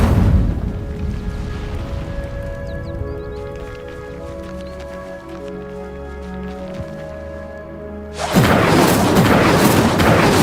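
Casting the Incendio fire spell in Hogwarts Legacy: a low rumbling, humming build-up gives way near the end to a sudden loud whooshing burst of roaring flame.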